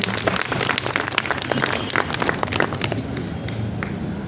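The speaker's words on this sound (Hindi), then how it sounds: "एक ताली तो बनती है" Dense applause from an audience at a National Voters' Day event at an election commission office, steady crackling claps filling the room throughout, with a faint voice underneath.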